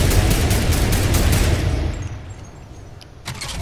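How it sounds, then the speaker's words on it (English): Rapid automatic gunfire in a video game, a dense loud burst for about two seconds, then a quieter lull before another short burst near the end. "I was just shooting at you."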